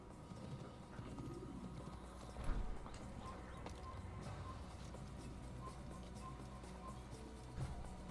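Horse hooves clip-clopping steadily while riding in a 12th-century assassin video game, a continuous rhythmic trot of moderate loudness with faint game ambience and no talking.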